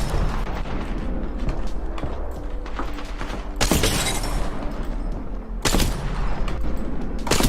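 Gunfire in the first-person shooter Apex Legends comes as sharp bursts and cracks over a busy, noisy background. Two loud broadband blasts stand out midway and near the end, with no speech.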